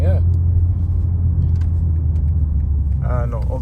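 A stock BMW G80 M3 in Sport Plus mode gives off a deep, steady engine rumble at night in Munich, loud and constant, with brief voices heard near the start and end.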